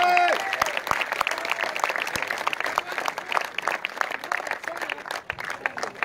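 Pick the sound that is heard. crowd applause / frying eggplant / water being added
crowd applause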